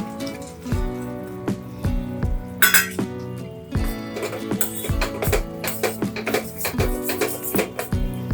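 Dry fruits go into melted jaggery in a pan and are stirred with a spoon, giving a series of sharp metallic clinks and taps in an uneven rhythm.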